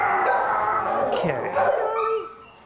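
A puppy yips and whimpers with short barks while out on a walk with other dogs, close by, mixed with a person's voice speaking over it.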